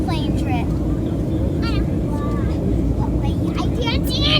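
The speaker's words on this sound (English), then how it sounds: "We're still on a plane trip." Steady loud roar of an airplane cabin during a flight fills the background while people talk over it throughout.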